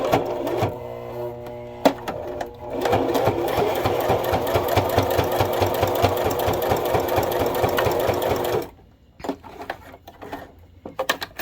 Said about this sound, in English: first we're going to try it with just 1 layer and see how it sews.